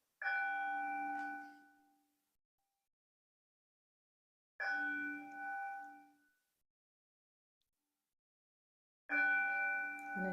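A meditation bell rings three times during an outdoor walking meditation, each clear resonant strike ringing out and fading slowly into silence before the next, spaced several seconds apart.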